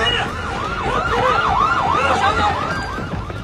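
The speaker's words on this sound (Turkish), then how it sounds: "Çalsın sirenler. Sirenler çalsın." Emergency vehicle sirens wail in a rising and falling cycle across the clip, loud and near, with a brief spoken word over them.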